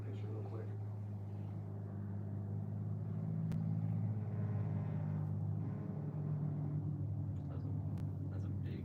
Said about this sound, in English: That's a big truck. yeah, it was making the window vibrate.